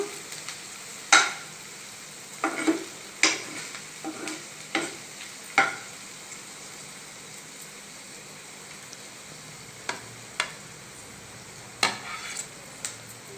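Sliced onions frying in a pan, with a steady low sizzle under a string of sharp scraping strokes as a spatula stirs them at uneven intervals, close and fairly quiet.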